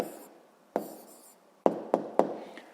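A pen writing down an answer on paper: a brief scratch, then a few sharp taps as the pen strikes the page, close and quiet with no talk.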